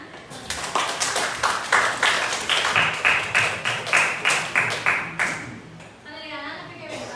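A classroom group claps hands in a steady rhythmic pattern of about a dozen loud, evenly spaced claps, with voices murmuring underneath and a brief spoken voice at the end.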